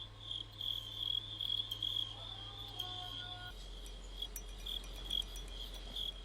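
Fighting crickets kept in Beijing chirp in a steady high trill, close and continuous, with a low hum beneath that shifts partway through and no voices.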